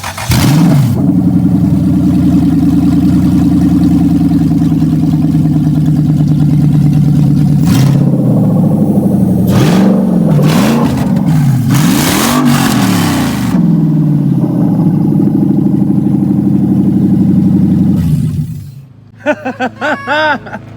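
Lexus GS400 V8 with a custom exhaust idling loudly and steadily, then blipped through several sharp revs rising and falling before cutting off, followed by brief close voices.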